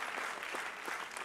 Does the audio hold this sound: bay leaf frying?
no